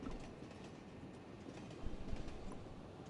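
A train runs in the video game Broken Sword: Shadow of the Templars Reforged, a faint, steady rumble and rattle that swells slightly toward the end.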